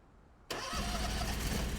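A Toro lawn mower with a recycler kit starts up in Lawn Mowing Simulator: quiet at first, then the engine catches abruptly and settles into a loud, steady, close running drone.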